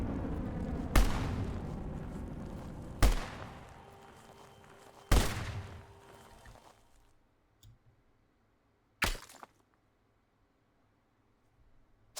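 Four sharp, loud gunshots crack out at irregular intervals, each trailing into a decaying echo, followed by a quieter, sparser shot and near silence.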